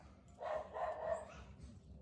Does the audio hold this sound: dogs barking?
yes